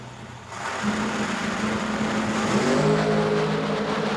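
Drag race cars at an outlaw series event at Bowling Green, one nitrous and one supercharged blower, rumble at idle then roar louder as engines build revs, distant and steady with rising tones.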